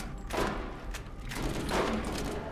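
Gunfire in the video game Borderlands, several shots and bursts across a couple of seconds, mixed with busy game noise and a faint voice.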